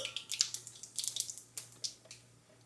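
Cumin seeds crackle and spit in hot oil after mustard seeds pop, a run of sharp, close sizzling pops at an irregular rhythm over a faint steady hum.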